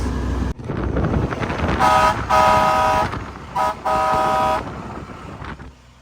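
The air horn of an International Mega Cab 4x4 truck blasts four times in close succession, loud and brassy, with a few brief pauses over a rumbling engine and wind.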